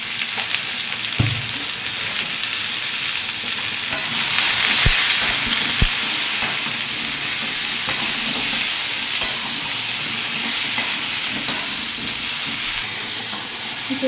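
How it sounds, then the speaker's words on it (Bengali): Taro, potato and pointed gourd fry in a pan in a home kitchen, giving a steady close sizzle and hiss that swells louder for a few seconds, with a couple of faint utensil knocks and no talking. "আর এই যে কচু, আলু, পটলগুলো ভেজে নিচ্ছি"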